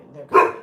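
One short, close bark from a large dog cuts through a quiet room, with a low hum before and after.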